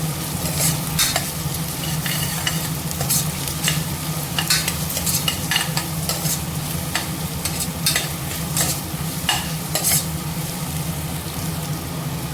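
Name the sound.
onions, tomato, ginger and garlic sautéing in pan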